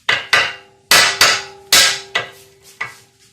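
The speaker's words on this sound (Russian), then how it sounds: "А вот теперь берем адский молоток" A heavy hammer strikes a Range Rover front suspension part seven times in an irregular rhythm, each blow a sharp metallic clang ringing briefly, loud and close with no talking.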